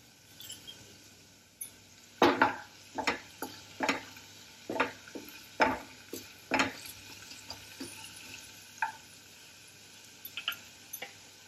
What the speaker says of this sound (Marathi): ही हिरवी मिरची घालून घ्यायची आणि याला थोडंसं गुलाबी रंग येईपर्यंत आपण भाजून घ्यायचं आहे